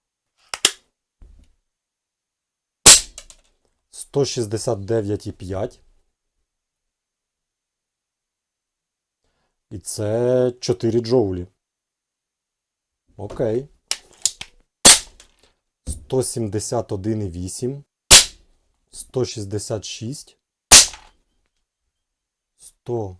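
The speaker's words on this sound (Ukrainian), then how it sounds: "зроблю тут типу серію пострілів" Five sharp, loud shots from a Diana P-five or Snow Peak SP500 air rifle firing Hornet 0.28 pellets, spaced several seconds apart, with someone talking in the gaps between shots.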